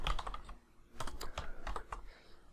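Fingers typing code on a computer keyboard, a quick close run of light clicking keystrokes with short pauses, alone without talk.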